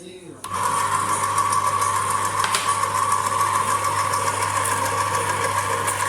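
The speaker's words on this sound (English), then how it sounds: "We are putting in some ginger into the food grinder and making some really yummy pork sausage." A food grinder grinds ginger for homemade pork sausage, its motor starting after a brief pause and then holding a steady, loud electric hum with a constant mechanical whine.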